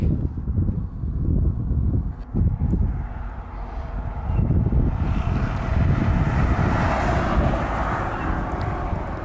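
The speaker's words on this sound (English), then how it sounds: "But with these cars going by and the noise they make" Traffic passes on a road near the US 41 and Herman Road rail crossing in L'Anse. Loud rushing swells of passing vehicles mix with wind buffeting the microphone, and there is no talk.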